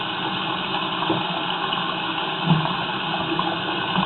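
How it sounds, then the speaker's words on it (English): Water runs steadily in a continuous, even rush with a hollow, piped quality, with no talking. "Got water running from the utility sink."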